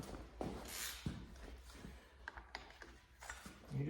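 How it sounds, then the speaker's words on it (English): A hand ratchet on a socket turns over a small block Chevrolet engine, giving bursts of quick metallic clicking in a few separate pulls with short pauses between them, fairly close and moderately loud. "Just take your ratchet."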